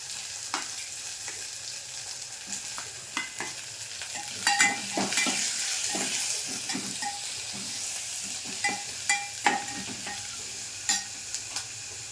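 Chopped onion sizzles in hot mustard oil over a cumin and mustard-seed tempering while a spoon stirs it, a steady frying hiss broken by scraping strokes and brief louder clatters of utensil against pan.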